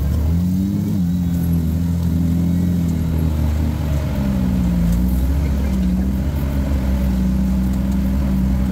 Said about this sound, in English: Even though we're just testing the buggy, the canyons that we're driving through on Nasty Half make it a very enjoyable ride.